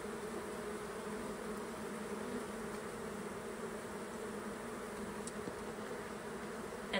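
Honeybees buzzing steadily around a hive during a re-homing, a dense continuous drone of many wings held at an even level throughout, with no talking.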